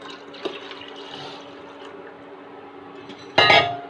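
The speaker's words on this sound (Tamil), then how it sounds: "இப்போ வந்து இது கூட கொஞ்சம் தண்ணி ஊற்றிடலாம்." Water is poured into a pot of milk and flattened rice for payasam, with quiet kitchen clinks and then a sudden splashing gush near the end.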